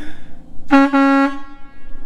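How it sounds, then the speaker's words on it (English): A single loud air horn blast from a 1949 White Super tow truck, about half a second long with a brief stutter at the start, close by over quiet background noise. "That is a loud horn."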